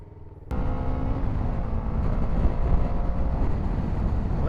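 A motorcycle engine on a road through Napa Valley rumbles up sharply and holds a loud, steady roar with rising revs, mixed with wind buffeting the microphone.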